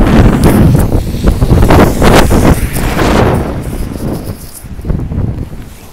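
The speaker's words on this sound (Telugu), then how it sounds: "గాలి దారుణంగా ఉంది" A fierce outdoor wind buffets the microphone in loud, irregular gusts, heaviest early on, then easing into a lower, uneven roar with occasional bursts.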